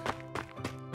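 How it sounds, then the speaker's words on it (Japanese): Footsteps in the Seven Shadows Chronicles video game: three quick, evenly spaced thudding steps, close and moderately loud, with no talking. "この足音は"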